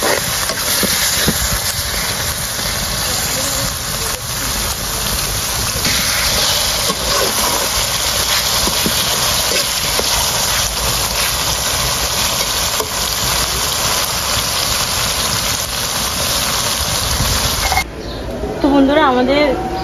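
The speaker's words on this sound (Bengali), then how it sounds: "এখন দিয়ে দিই মাথা দিয়ে মশলার সাথে একটু কষিয়ে নিই" Salted hilsa fish head sizzles in a pan with spices, a dense continuous frying hiss that runs steadily before cutting off near the end, where a voice briefly speaks.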